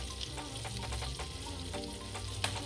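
Butter melting in a pan gives off a continuous, moderately quiet sizzle, with soft crackles and a light stirring scrape near the end.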